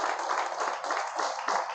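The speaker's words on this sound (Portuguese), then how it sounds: "aplauda bem forte ao Senhor" Church congregation clapping loudly and steadily in praise, a dense, continuous patter of many hands filling the room with no break, close and full.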